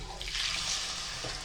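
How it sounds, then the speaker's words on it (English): Water pours steadily into a cooking pot with spicy vegetables on a home stove, a continuous bright splashing stream running close and fairly loud for its whole length, no talk over it. "Now I am adding water in it."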